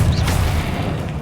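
A disarming spell is cast in the Hogwarts Legacy video game as a loud, full-bodied magical blast with a deep booming impact that fills the whole short moment.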